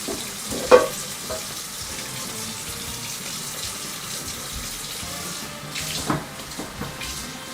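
Water runs from a kitchen tap into a sink while bacon cheese burgers cook, a steady close splashing flow with a faint sizzle beneath and a few clanks, no talking.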